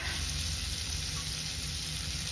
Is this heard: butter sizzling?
yes